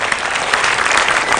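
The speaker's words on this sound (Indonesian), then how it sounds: "Tepuk tangan dulu dong." Dense studio audience applause at a comedy talk show, loud and close, a steady wash of many hands clapping with no voices over it.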